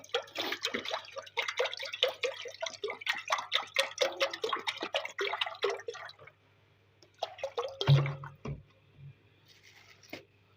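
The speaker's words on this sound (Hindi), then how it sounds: "यखनी के लिए पानी डाल रही हूँ।" Water pours into a pot for chicken soup stock, a bubbly splashing stream for about six seconds, then a pause and a few short drips and clunks at close range.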